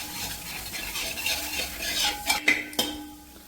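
Spice powders dry-roasting on a low flame in a pan, stirred with a spatula: faint, close scraping with a few sharper metallic clicks and taps near the end, no voices.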